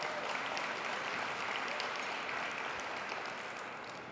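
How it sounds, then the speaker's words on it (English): A luncheon audience at a business conference claps steadily for several seconds. The broadband, evenly dense applause fades slightly toward the end. "Let's give them a round of applause."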